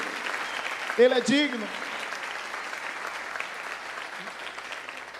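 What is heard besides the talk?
congregation applauding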